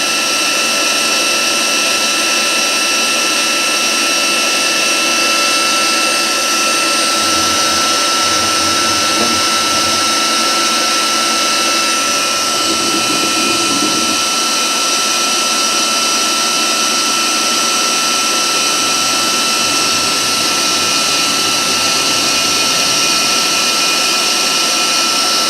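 A Citizen K16 CNC Swiss lathe with its sub spindle running at 5,000 RPM, a loud, steady high-pitched whine and machine hum that holds constant throughout with no breaks.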